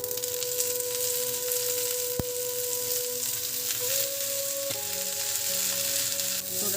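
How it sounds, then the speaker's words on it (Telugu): Mint leaves fry in oil in a pan for a traditional Telugu chutney, giving a steady close-up sizzle with a sharp knock partway through. A faint tonal hum runs underneath, and there is no talk. "ఇప్పుడు మనము పుదీనా కూడా వేయించుకుందాము"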